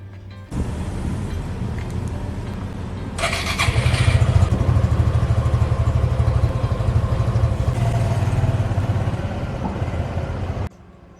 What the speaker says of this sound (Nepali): ल अब हामी चाहिँ लाग्यो सरर गर्मीमा बाइक चलाउँदै